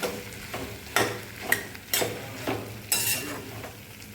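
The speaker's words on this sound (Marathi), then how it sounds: "इथे टाकली भेंडी फोडणीला।" Okra sizzling in hot tempering oil for a Marathi bhaji, with a soft steady fry under regular sharp scraping clinks of a spatula stirring against the pan, about two strokes per second.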